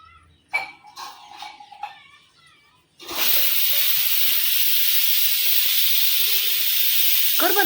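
A pressure cooker on a home kitchen stove suddenly releases a loud, continuous hiss of steam that holds steady for several seconds after quieter clatter and soft kitchen sounds.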